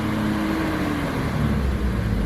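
A 2001 Jeep Cherokee XJ with a bad throttle position sensor, engine running just after starting up: a loud, steady, rough idle rumble, close by, alone.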